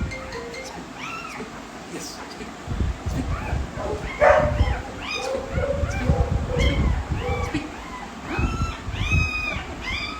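A female dog, mother of six puppies, whimpers and yips in repeated high, thin cries scattered through the clip, mixed with people talking nearby.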